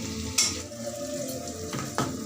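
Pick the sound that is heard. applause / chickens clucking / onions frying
onions frying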